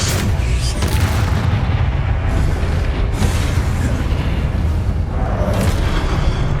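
Confringo blasting spell explosions in the video game Hogwarts Legacy, a loud continuous barrage of deep booms and bursts layered over one another with no pause.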